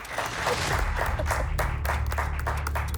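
An audience at a band battle show claps together in a dense, steady round of applause that fills the space, loud and continuous with crowd noise beneath.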